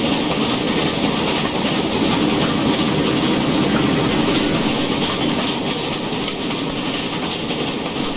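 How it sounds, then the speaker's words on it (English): LMS 2F 0-6-0T steam tank locomotive in the Train Simulator Classic game, heard as a dense, steady roar of rolling wheels and rail clatter with soft, barely audible chuffs, loud and continuous with no voice. "The actual locomotive sounds are not that loud, though."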